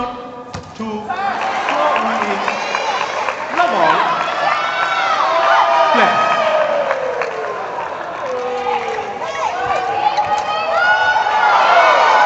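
A loud arena crowd cheers and shouts for the Indonesian badminton pair at the 2020 Asian Championship final, a sustained roar of many voices with rising swells and whistling tones over the full stretch.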